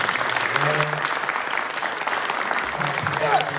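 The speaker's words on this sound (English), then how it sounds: "if we could get a big round of applause for our amazing" Audience applause fills an evening arts-center talk event, steady and fairly loud throughout, with a few voices faintly mixed in.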